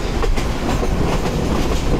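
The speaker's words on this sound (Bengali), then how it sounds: "ট্রেন ভালো স্পিড দিচ্ছে" A Balaka commuter train on Bangladesh Railway runs at speed, making a loud, steady rumble with rhythmic clickety-clack from the wheels, heard close from inside and without talk.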